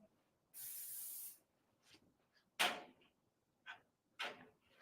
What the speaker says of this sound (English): Okay, I'm gonna spray, right?